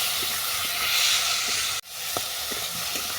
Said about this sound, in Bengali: গ্রেট করে রাখা টমেটো দিলাম লঙ্কার গুঁড়ো এই সব উপকরণ আমি ভালো করে কষিয়ে নিচ্ছি